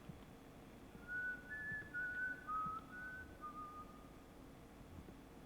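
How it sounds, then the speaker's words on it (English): A faint, thin whistled tune of several short wavering notes in the video game White Day: A Labyrinth Named School, over a low background rumble, no voices. "I hear him whistling."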